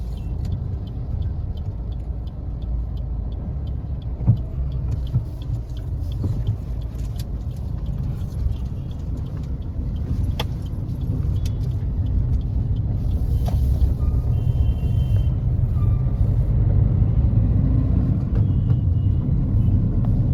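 A car drives along National Highway 512 in West Bengal, heard from inside as a loud, steady low road rumble and engine drone that swells slightly toward the end, with faint ticks and rattles above and no talking.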